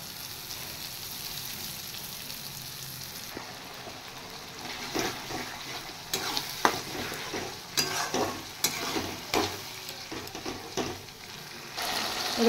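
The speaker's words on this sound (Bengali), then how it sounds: "নুন, হলুদ আর শুকনো লঙ্কার গুঁড়ো দিয়ে দিয়েছি, এবার ভালো করে কষিয়ে নেব।" Salt, turmeric, chili powder and yogurt are stirred into spices in a pan, with a soft sizzle and intermittent scraping strokes of a spoon that grow more frequent and louder in the second half.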